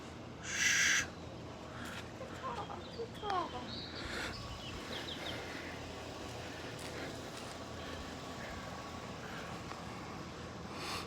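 An owl at a bird rescue calls once early on, a short bright burst over faint background noise, followed by a few softer chirps and rustles.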